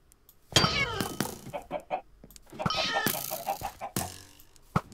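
Chickens cluck repeatedly in a Minecraft Survival Games match on the Mineplex server, with bursts of busy clucking layered over game noise and faint voices.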